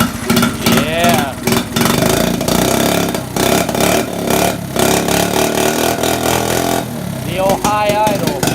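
Small engine of a 1984 Honda ATC70 three-wheeler running loud and close at a high idle, a steady buzzing drone with slight rises in pitch, with people talking over it.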